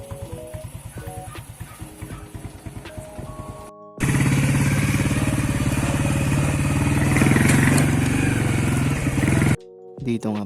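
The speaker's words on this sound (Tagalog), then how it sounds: "Gagamitin nga pala natin motor si Ichigo." A motorcycle engine in Pandi, first ticking over at idle with a few revs, then opening into a loud sustained roar as the bike rides off, cutting out briefly near the end before picking up again.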